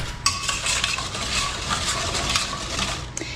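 Cranberry sauce being stirred in a pot over medium-low heat, a steady scraping swish of spoon against the pan running continuously and close, with no voices.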